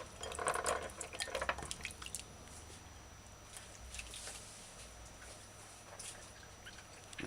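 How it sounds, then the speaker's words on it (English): Frozen shrimp are rinsed under running water, with faint splashing and dripping plus a few light clinks of a bowl or pan, quiet and close. "rinse it again with fresh running water"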